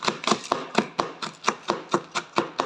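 Kitchen knife chopping spring onions on a board in a steady run of about a dozen crisp, close taps, evenly spaced and alone.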